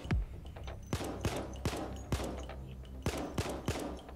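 Repeated single gunshots in the game Payday, roughly a dozen sharp cracks fired at an uneven but steady pace, close and punchy over a low background rumble.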